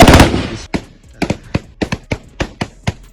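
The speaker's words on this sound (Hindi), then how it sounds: "दो तरफा फायरिंग का तबादला जारी है।" Two-way exchange of gunfire between Rangers and armed bandits in the riverine Kacha area, about 500 metres apart: a loud blast opens, then a rapid series of sharp, echoing single shots in quick succession.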